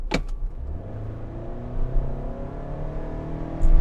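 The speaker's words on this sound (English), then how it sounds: "the CVT sound is so like obnoxious and not good" A 2024 Toyota Sienna Limited Hybrid minivan accelerates with a rising, steady whine from the CVT transmission and engine, heard from inside, with no talking.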